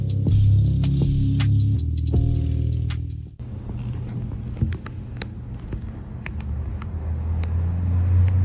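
A BMW 335xi fitted with a new aftermarket exhaust gives a steady, deep engine drone at close range with no talk, the tone shifting partway through as the rumble changes character.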